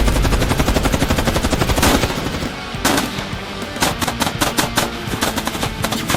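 Rapid machine-gun bursts and gunshots in a video game, shooting at soldiers, loud and close, with repeated sharp volleys and short pauses between bursts.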